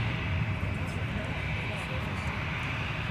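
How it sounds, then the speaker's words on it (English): A Delta Airbus A350-900 on very short final lands on runway 12 right at Minneapolis–St. Paul airport, a loud, steady broadband jet roar that holds without a break. "And there it is, Delta 1303 Heavy with the A350-900."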